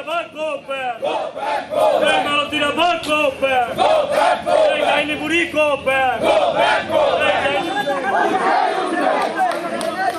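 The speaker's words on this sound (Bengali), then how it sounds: "দেখাই মালতী ডাভাকে ঘিরে কি বিক্ষোভ, গো ব্যাক স্লোগান মালতী ডাভাকে ঘিরে" Protesters surround Malati Dhaba on a street in Tufanganj, Cooch Behar, loudly chanting a rhythmic go-back slogan in unison, a dense near crowd roaring continuously throughout.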